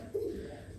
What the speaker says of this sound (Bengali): এটা কিন্তু আমার হোম ব্রিড কবুতর।